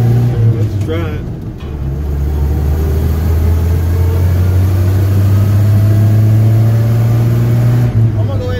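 A DIY hybrid pickup truck engine running while driving, a loud steady low drone with rising engine hum throughout, a brief clatter near the start.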